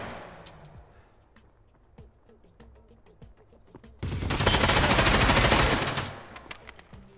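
Gunfire in Escape From Tarkov on the Customs map: scattered single shots, then a loud, dense automatic burst lasting about two seconds before fading, with no talk over it.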